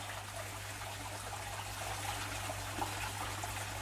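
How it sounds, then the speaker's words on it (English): Bloodworms dripped from a turkey baster into a fish tank make a soft, steady trickle and light watery patter over a constant low aquarium hum, close and quiet. "I'm just going to start dripping those little guys in"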